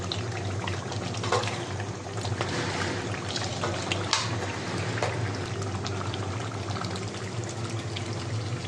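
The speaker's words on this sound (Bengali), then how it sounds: "গরম পানি অ্যাড করবার সঙ্গে আলাদা গরম দিচ্ছি পানি দেখেন" Hot water is poured into a cooking pot of duck curry with coconut, giving a steady, continuous rushing and bubbling wash that stays fairly loud throughout.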